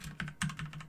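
Typing on a computer keyboard while entering router configuration commands, a quick run of several close, soft key clicks in an uneven rhythm, with no voices.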